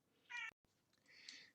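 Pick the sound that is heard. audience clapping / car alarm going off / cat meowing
cat meowing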